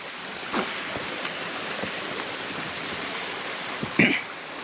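A flowing stream near Round Island Falls rushes steadily in a broad close hiss of water, with a few brief knocks and splashes standing out from the constant flow.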